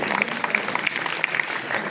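Audience applause at the inauguration of a Maharashtra–Jammu & Kashmir friendship chapter, a steady dense patter of many hands clapping close by throughout, with no pauses or voices standing out.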